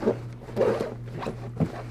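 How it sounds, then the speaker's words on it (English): A zipper pulled closed on a fabric pouch from a survival box kit, several close rasping strokes in quick succession over about two seconds. "So this bit zips up."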